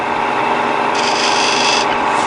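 A wire pulled tight against a spinning wooden workpiece burns a groove with a steady, close friction hiss and rub, briefly growing harsher in the middle before settling.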